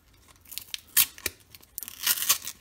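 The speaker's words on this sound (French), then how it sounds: "je vais essayer de déchirer le carton peut-être" Cardboard packaging around Pokémon cards being torn by hand, a series of short ripping and crinkling bursts, sharpest around the middle and building to a longer, louder rip near the end, close up with no talk.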